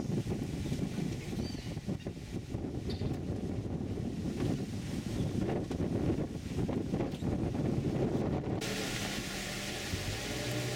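Strong wind buffeting the microphone on a wildlife boat tour in Palo Verde National Park, Costa Rica, a continuous loud roar with low rumble throughout, no speech over it.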